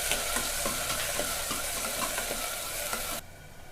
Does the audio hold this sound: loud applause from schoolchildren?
no